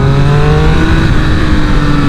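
A Triumph Speed Triple 1200 RR engine revs hard around 5,000 to 6,000 RPM, a loud, close, steady growl with a slowly shifting pitch, heard from on the bike while riding.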